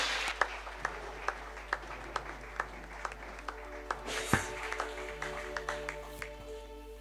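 A church congregation claps as the pastor approaches, rhythmic unison claps over a low hum, with a louder burst partway through.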